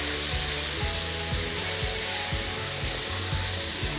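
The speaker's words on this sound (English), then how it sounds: "Stir it all together." Diced zucchini, yellow crookneck squash and onions stirred in a hot pan: a constant sizzle under a steady rhythm of spoon scrapes about twice a second, close and alone.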